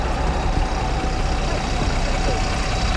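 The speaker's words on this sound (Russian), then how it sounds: "О, завелся" A stalled vehicle's engine, started by pushing, runs with a rough, steady, broadband rumble that fills the whole stretch with no clear pause.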